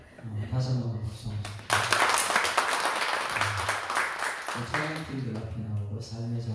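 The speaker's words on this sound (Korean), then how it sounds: "다시 한번 박수." A church congregation bursts into loud applause for about three seconds, with people speaking before and after the clapping.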